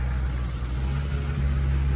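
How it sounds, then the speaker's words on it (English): Deep, steady rumble of a Mercedes SL with a Renntech 7.4-liter V12, exhaust burbling at a low idle-to-light rev for a couple of seconds, fairly quiet and with no talking. "So we'll get to hear the exhaust a little bit better here. It's a deep, deep sound."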